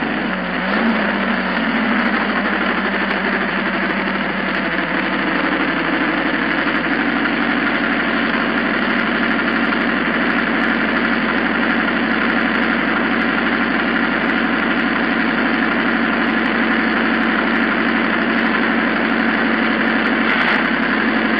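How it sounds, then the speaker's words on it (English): A police car engine runs at a steady idle for the whole stretch, a constant low mechanical hum with no break and no voices over it. "start up the engine and we can go"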